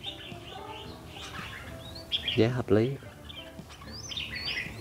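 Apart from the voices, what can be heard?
caged birds chirping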